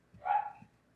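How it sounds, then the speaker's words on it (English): A dog barks somewhere in the background during a quiet indoor cross-stitching session, one short muffled bark or yip rising and fading within about a second. "And I know you can probably hear my dog in the background."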